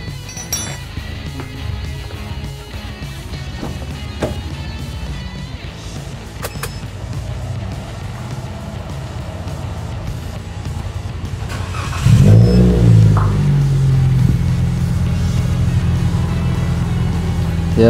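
Toyota Agya car engine starting after spark plug and VVT-i sensor cleaning, a quiet idle-like hum with small clinks, then a louder start and rising revving rumble about twelve seconds in.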